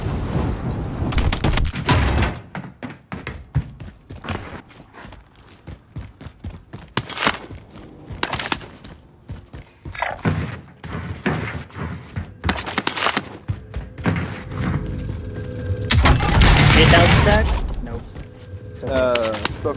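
Gunfire in the Warzone video game, repeated bursts of automatic shots and rapid volleys in the foreground, with players talking in between.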